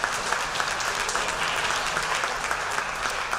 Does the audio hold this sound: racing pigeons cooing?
no